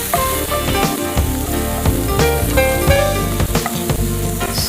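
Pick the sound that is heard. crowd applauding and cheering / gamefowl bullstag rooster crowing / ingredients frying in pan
ingredients frying in pan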